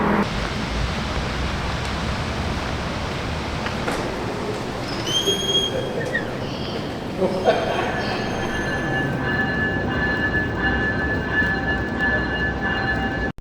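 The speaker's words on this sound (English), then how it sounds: "I got to ride one of Via Rail's new venture sets back to Montreal" A Via Rail Venture passenger train runs along the track in Canada, a constant loud rumble of wheels and rail with rising squealing tones and whistling whines over the steady roar.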